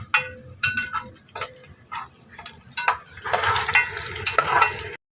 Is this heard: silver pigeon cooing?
no